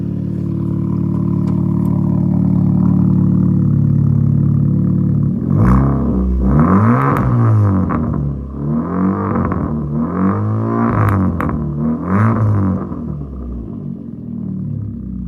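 A Ford Fiesta fitted with a Hornet exhaust idles steadily at close range, then is revved in several short bursts, each rising and falling, the exhaust note loud and raspy with no talking.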